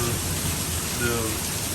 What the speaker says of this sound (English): this is a good soaking rain